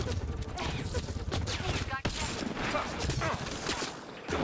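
Kett enemies fire weapons in a fight in Mass Effect: Andromeda, with dense, continuous rattling gunfire and sharp bursts blending with other combat sounds.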